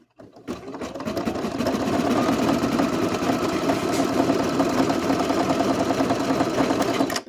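A sewing machine runs steadily while it stitches lace trim. The whirring hum and rapid needle clatter start after a short pause and carry on evenly, close and alone, until the machine stops at the end.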